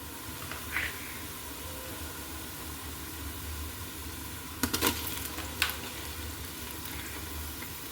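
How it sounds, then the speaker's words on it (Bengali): Beef dropped into fried onions in a large pressure cooker: a steady hot sizzle runs throughout, broken by a couple of sharp clattering bursts as the meat goes in and is moved. "বিফটা আমি অ্যাড করে দিচ্ছি।"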